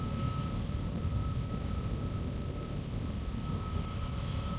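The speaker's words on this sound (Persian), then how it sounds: "موتور این هواپیما CMF لیپ هست که جز به کم صدا ترین و کم مصرف ترین موتورهای جهان محسوب میشه" Airliner with CFM LEAP engines at London Luton Airport, heard as a steady, moderately loud engine roar with a sustained tonal whine, continuous and without speech.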